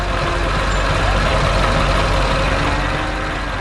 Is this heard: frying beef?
no